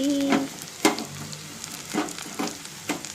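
Potato and fenugreek leaf curry (aloo methi) frying in a pan over a low flame: a soft continuous sizzle with a few sharper scraping stirs and light clatter, heard alone at low volume.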